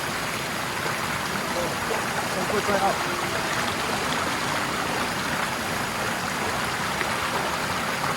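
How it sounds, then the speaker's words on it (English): Steady rushing water from a Lunan Bay waterfall fills the scene, a broad continuous roar, with a voice speaking briefly over it. "Ooh, Lunan Bay waterfall number 2"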